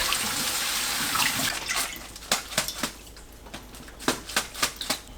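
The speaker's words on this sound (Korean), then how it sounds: "흐르는 물로 헹궈주세요." Cabbage is rinsed under running kitchen tap water, a steady close rush of flowing water that breaks into rhythmic splashy pulses as the leaves are moved through the stream.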